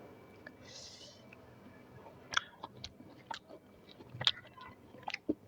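Close, crisp bites and crunches of fried garlic being chewed at a meal, scattered irregular crunches through a quiet background with no talk.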